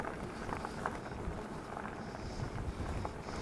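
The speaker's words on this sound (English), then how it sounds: "It's a tad on the windy side" Steady broadband wind rumble buffets the microphone throughout, with low gusty roar and no clear voices.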